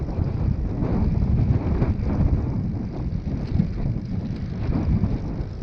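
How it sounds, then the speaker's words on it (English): Strong wind buffeting the microphone during a recumbent bike ride on a trail along a drainage canal, a continuous low rumbling roar that swells and gusts, close and steady, with no talking. "you can tell that wind's getting a lot stronger"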